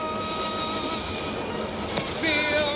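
A crowded passenger train runs with a steady, droning rumble and faint tonal hum, wheels squealing briefly near the end, no one speaking.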